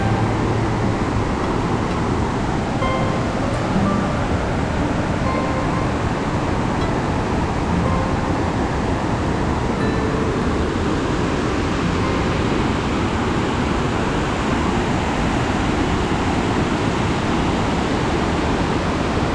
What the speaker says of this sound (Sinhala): බලන්න දියැල්ල කඩා හැලෙන ආකාරය